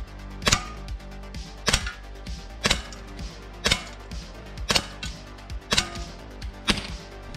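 A SIG Sauer P226 CO2 air pistol fires at a target 10 meters away, producing seven sharp, loud, close cracks spaced at a steady interval of about one second.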